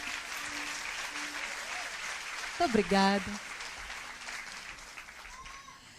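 A church congregation applauds steadily in a dense wash of clapping, with a single voice speaking briefly over it midway.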